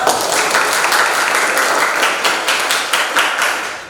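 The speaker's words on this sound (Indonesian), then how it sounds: "Tepuk tangan dulu." A classroom of students clapping hands together, loud and close, a dense burst of applause with some individual claps standing out as it slowly thins toward the end.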